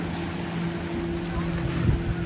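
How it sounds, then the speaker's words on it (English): A boat motor runs out on the water off a beach, a steady low drone with a faint hum over wind and surf, moderately close and continuous. "The boat there."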